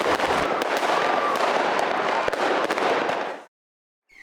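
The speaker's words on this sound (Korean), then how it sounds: "폭죽이 잇따라 하늘로 솟구칩니다." New Year fireworks in Germany crackle and burst continuously overhead, a loud, dense barrage of pops and bangs that stops abruptly near the end, followed by near silence.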